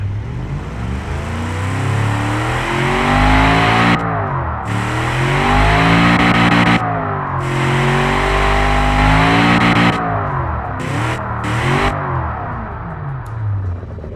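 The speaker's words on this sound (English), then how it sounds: "So the engine sounds like a true amazing V8" A deep, rumbling video-game V8 engine, a Chevrolet LS7 replica in Automation, revs up and down repeatedly, loud and close, with rising and falling pitch sweeps and no talking.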